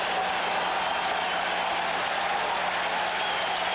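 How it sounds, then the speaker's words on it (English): A stadium crowd applauding at a 1994 Michigan at Notre Dame college football game, a steady, even wash of clapping that holds throughout. "Pardon me while I stand and applaud with the rest of this crowd"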